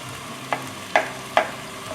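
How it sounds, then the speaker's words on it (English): Thin beef slices cooking in a pan for gyudon, a soft steady sizzle punctuated by three quick clinks or scrapes of stirring, close and quiet, no talking. "And basically we're just gonna cook the beef."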